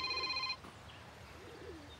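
Telephone ringing in a television drama scene, a brief electronic ring that cuts off after half a second, leaving a quiet room.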